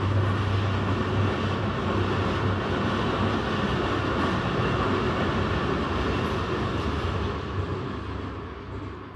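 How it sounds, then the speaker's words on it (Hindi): A train rumbles steadily past close by in a home setting, a loud continuous roar of wheels and cars that holds throughout and eases slightly toward the end, with no talking. "जो ट्रेन आ गई है इसकी आवाज़ जो है, जब भी मैं वीडियो रिकॉर्ड करती हूँ ये मुझे बहुत तंग करती है"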